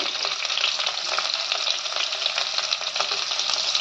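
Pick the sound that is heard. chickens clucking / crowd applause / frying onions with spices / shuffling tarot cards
frying onions with spices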